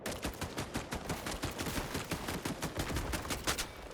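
Gold Paladin weapon in Highguard on PS5 firing continuously at a wall, a rapid, steady stream of sharp shots with an even rhythm, loud and close with no talk over it.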